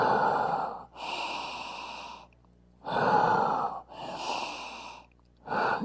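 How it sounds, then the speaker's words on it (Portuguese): Slow, deep breathing through the mouth into cupped hands, with alternating loud, breathy inhales and exhales in an even rhythm, close up and with no speech. "vai fazer a conchinha e vai colocar, e vai inspirar e soltar pela boca."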